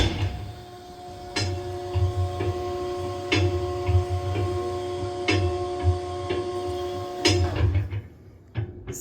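A Kolbe 110 hopper mixer grinder, 3-phase 480 volt, running in mix-only mode with a steady droning hum and periodic clunks from the mixing paddles at a regular slow rhythm, stopping near the end.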